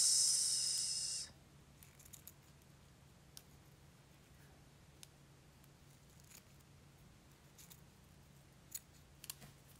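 Scissors cut through paper and fabric scraps during a scrap-craft project: one loud, rasping snip fills the first second, then near silence with a few faint ticks.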